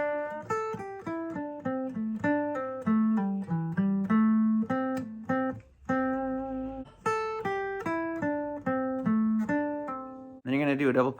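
An electric guitar plays a solo section, opening with a string bend, as a clear run of plucked single notes with short pauses between phrases, close and alone.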